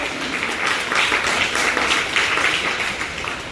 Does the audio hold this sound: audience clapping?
yes